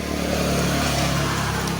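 Yamaha Mio i125 scooter engine running steadily at idle right after starting, a loud continuous mid-pitched motor hum close to the microphone with no talk.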